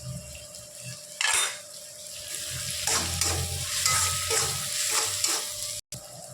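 Chopped tomato and a little garlic paste sizzle with browned onions in a pan, with a steady frying hiss broken by repeated scraping and clinking of a spatula stirring against the pan.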